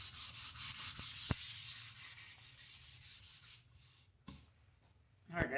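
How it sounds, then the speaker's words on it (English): Wood being hand sanded with 220-grit sandpaper while making a napkin holder: steady rhythmic back-and-forth rubbing strokes, close and fairly loud, then a pause with a few light knocks and handling sounds. "I'm hand sanding it all down with 220."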